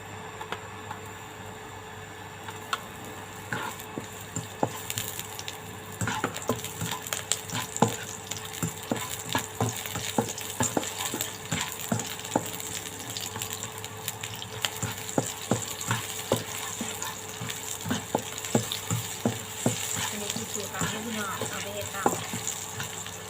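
Oil crackles and sizzles in a hot pan as pork bones are stir-fried with chili, kaffir lime leaves, lemongrass and garlic, with scraping stirs, bursts of popping scattered throughout, under a steady background hiss.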